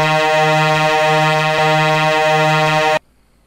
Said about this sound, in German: Jetzt hören wir uns erstmal die Hupe an vom Gifu LKW.